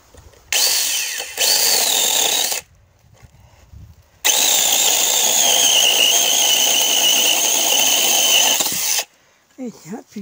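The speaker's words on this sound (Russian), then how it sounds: "Давайте проверим, как у нас работает ручная пила." A cordless handheld mini saw cuts through wood in two loud bursts of steady buzzing: a short cut, a pause, then a longer sustained run of about five seconds, followed by a few faint clicks.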